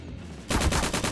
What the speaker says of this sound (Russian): сам по себе стреляю